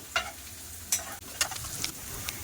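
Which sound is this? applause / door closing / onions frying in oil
onions frying in oil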